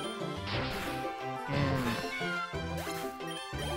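The cry of Meowth in the Pokerogue video game, a short cat-like electronic meow rising over looping game music and sound effects, with no talk.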